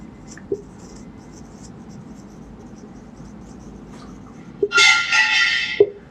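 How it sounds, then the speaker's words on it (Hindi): Chalk or marker writing a sentence on a classroom board, a faint scratchy stroke sound for several seconds, followed by a louder, brighter burst of scraping near the end. "एक सेंटेंस और लिख देते हैं।"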